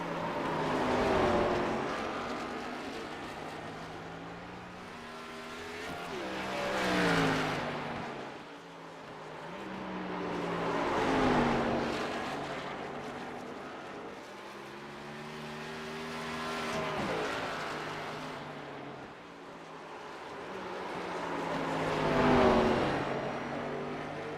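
Simulated sprint car engines in an Outlaws sim racing game at USA International, rising and falling in several loud passes with revving swells, under a race commentator talking throughout.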